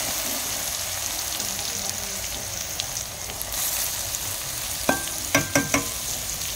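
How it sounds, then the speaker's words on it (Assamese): Radish pieces sizzle in hot oil for a radish pickle, a steady frying hiss with a few sharp clinks of a utensil near the end. "এই মূলাখিনিও এতিয়া মই তেলতে দি দিছোঁ"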